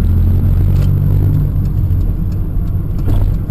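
A car driving along London side streets, captured by a dashcam, gives a loud, steady engine rumble with a low drone and faint tyre and road noise throughout, without speech.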